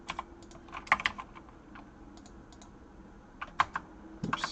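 Fingers tap on a computer keyboard in short bursts of sharp, close clicks separated by brief pauses, with no voices over them.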